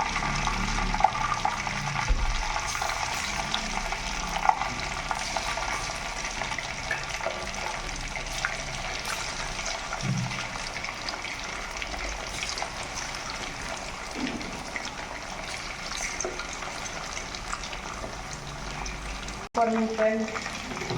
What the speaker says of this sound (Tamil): மீதி இருக்கிற சிக்கனையும் பொரிச்சு எடுத்துடலாம் ஃப்ரெண்ட்ஸ்.